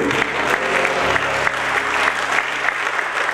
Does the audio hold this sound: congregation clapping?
yes